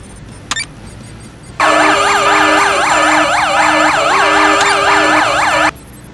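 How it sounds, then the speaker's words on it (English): An emergency vehicle siren wails loudly nearby, a rapid rising-and-falling yelp over a low hum, sounding for several seconds before cutting off. "People just move out of the way when you put the siren on."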